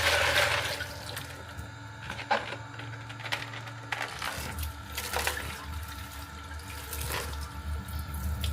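Water filling a goldfish tank on cleaning day: a steady tap-like gush and splash with a few clinks, fairly close and continuous.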